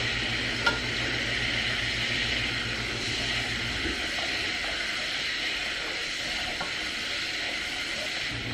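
Minced garlic sizzles in a frying pan as it is stirred in, a steady mid-level crackle with faint scraping of the utensil and a low background rumble that drops away partway through.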